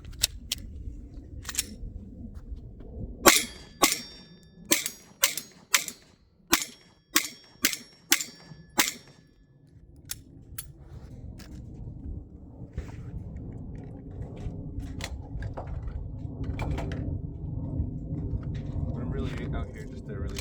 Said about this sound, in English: Now shooting the Glock 43X with a Trichicon